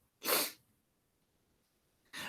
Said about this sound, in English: Sorry, I got to sneeze.